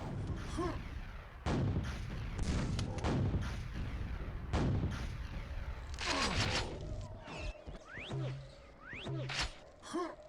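Rocket launcher blasts from a QuakeWorld duel video game: repeated loud booming rocket shots and explosions, several in quick succession, along with game effects and item pickups.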